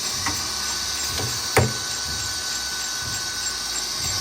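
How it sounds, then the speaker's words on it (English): A 2008 Tsugami BE-12V CNC screw machine live-milling with its main spindle at 8,000 RPM makes a steady, loud mechanical whine, broken by a few sharp clicks and a knock partway through. "live milling going on."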